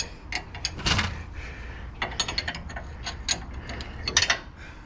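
A wrench works on a lift kit nut and bolt, giving a run of short metallic ratcheting clicks and clanks at close range, in scattered bursts with quiet gaps between them.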